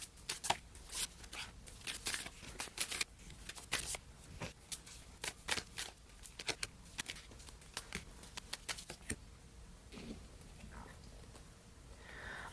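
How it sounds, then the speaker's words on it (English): Oracle cards being laid out and shuffled, a dense run of quick papery flicks and soft slaps close by, thinning toward the end with a quieter stretch. "I am going to lay these cards out and then get started."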